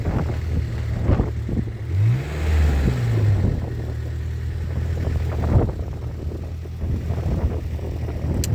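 Tourists' car engine idles and briefly revs near seaside salt pans on Gozo, Malta, a low steady hum with a rising and falling swell, under gusting wind noise on the microphone.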